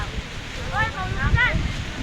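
Strong wind blows over a mountain picnic spot, a steady low rumble against the microphone, while people talk nearby over it.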